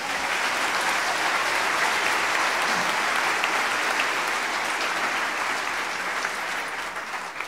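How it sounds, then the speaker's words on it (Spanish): A church congregation applauds in a steady, dense wash of clapping that holds loud and even for the whole stretch, tapering only slightly at the end. "Un aplauso a Jesús, hermanos."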